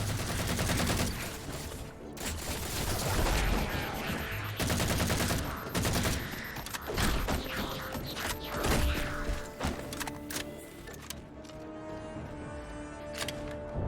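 Gunfire in the Halo 4 video game comes as dense rapid bursts and thumping explosions, one of them a grenade, with mechanical clanks and creaks and a quieter stretch at the end; no talking.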